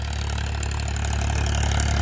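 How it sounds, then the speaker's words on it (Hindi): A tractor pulling an 8-foot Param rotavator runs close by with a loud, steady diesel drone and an even low thumping pulse. Nothing else is heard. "कैसी आपको ट्रैक्टर की साउंड लग रही है"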